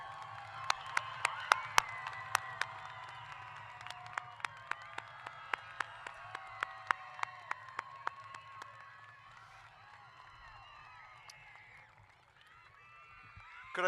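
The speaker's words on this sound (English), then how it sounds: "Let's give them a round of applause." Audience applause and cheering for a graduating early college class of 2022, distant, reverberant clapping under a low hum with sharp individual claps and whoops standing out, gradually easing toward the end.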